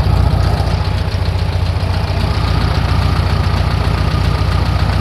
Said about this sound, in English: Idles, timing set.